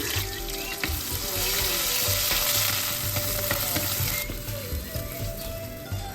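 Crushed ginger and garlic sautéing in hot coconut oil, a continuous close sizzle with light stirring and clinks, running alone without speech.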